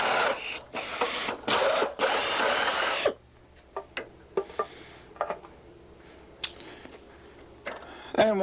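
A power drill whirs in several loud bursts while drilling a hole in a Van's RV-6 aircraft fuselage part, then stops, leaving scattered knocks and clicks in a quiet room.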